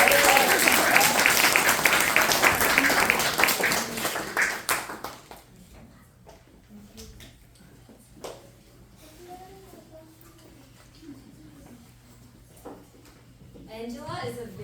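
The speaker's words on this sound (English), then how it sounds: "can we still give him a big round of applause?" Concert audience gives a big round of applause for an absent clarinet student, a loud dense burst of clapping that fades out by about five seconds, followed by quieter hall noise and a few stray sounds.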